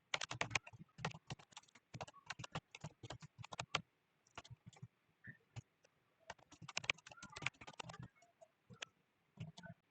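Typing code on a computer keyboard, with bursts of quick close key clicks separated by short pauses and no talking.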